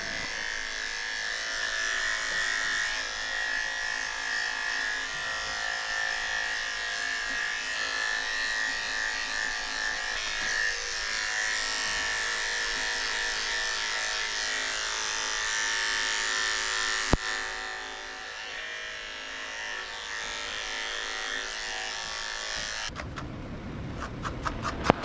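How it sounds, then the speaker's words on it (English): Electric dog clippers fitted with a 10 blade shave the belly of a Shih Tzu, Havanese and Yorkie mix dog, giving a close, steady buzzing hum that runs almost the whole time, dips briefly, then shifts near the end. "I'm shaving her whole belly out with the 10 blade, getting all that hair out so it stays clean."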